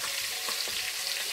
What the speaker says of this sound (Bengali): রসুনটা মোটামুটি ভাজা হয়ে গেছে